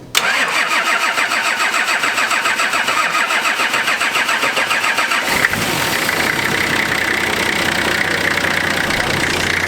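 A Nissan Patrol with a TD42 engine cranks and fires, then settles into a loud, steady diesel clatter close by, with a sharp surge about halfway through as the revs rise and the note thickens.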